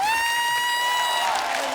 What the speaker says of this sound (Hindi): हिमेश सर के लिए जोरदार तालियां